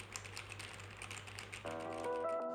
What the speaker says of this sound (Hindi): ये है एक टाइपिंग टेस्ट।